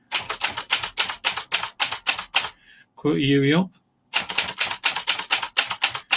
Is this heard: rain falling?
no